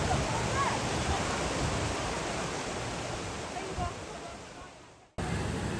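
A waterfall about 30 m wide and 68 m high pours from Heaven Lake on Mount Baekdu, giving a steady, broad roar of rushing water that briefly drops out before resuming.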